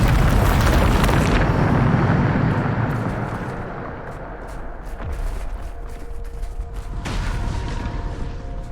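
A Bombarda blast spell going off in Hogwarts Legacy: one loud, deep rumbling explosion that swells and slowly fades over several seconds, followed by fainter crackles and a sharp impact near the end.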